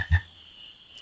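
A frog croaks once in Final Fantasy IX, a short low burst right at the start, followed by a steady quiet in-game tone.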